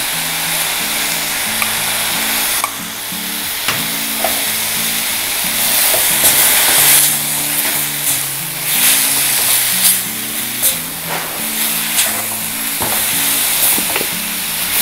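Drumstick flower palya with grated coconut stir-fries in a pan, a steady loud sizzle with repeated scraping stir strokes running throughout, no talking.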